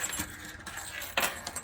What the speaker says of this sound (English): One set of keys for each of you.